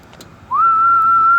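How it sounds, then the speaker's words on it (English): One long sustained whistle, rising briefly and then holding steady, sent loudly into a CB radio microphone to test a custom two-pill 10 and 11 meter competition amplifier, with faint clicks just before. "Let's give it a whistle."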